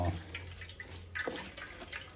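Water with crab meat poured into a cooking pot while preparing a Thai rice-field crab curry, a steady splashing pour with faucet-like running water, moderately close.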